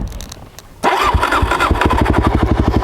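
A Suzuki DRZ400S dual sport motorcycle on a single track trail cranks briefly, then its engine catches and settles into a loud, close, rapid thumping idle.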